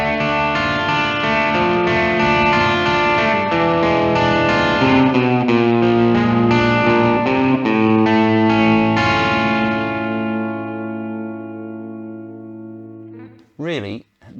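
An electric guitar on its back pickup plays chords through an Ibanez TSA15H tube amp with a thick, slightly driven tone. The last chord rings out and fades, followed by a couple of quick plucks.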